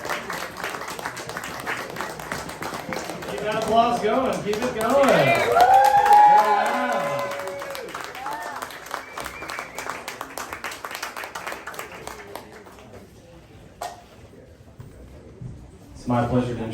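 Applause from the audience at a poetry reading swells to a peak, then thins out toward the end, with voices talking over and through the clapping.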